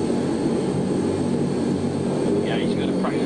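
Inside an aircraft practicing a two-engine flapless landing at Stansted, a steady, loud engine drone fills the cabin throughout, with brief talk near the end.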